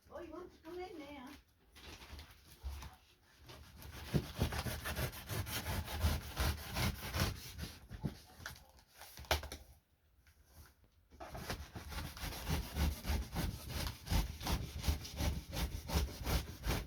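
Drilling by nearby workers outside a house, heard as a continuous rough grinding and rasping that stops briefly and resumes, with a dog barking and a person talking over it.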